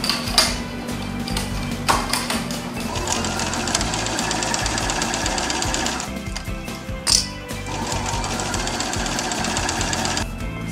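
A sewing machine stitches a folded one-inch seam allowance on a barrel bag made from a vintage leather jacket, a rapid mechanical chatter running in steady bursts with short stops, close and moderately loud.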